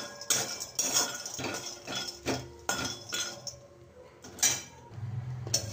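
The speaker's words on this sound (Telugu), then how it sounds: "ముందుగా గ్యాస్ పైన కడాయి పెట్టేసి ఈ పల్లీలను లో ఫ్లేమ్లో వేయించుకోవాలి." Peanuts dry roasting in a kadai over a low gas flame, giving a series of light dry rattles and clinks as they are moved around the metal pan, close up with no talk.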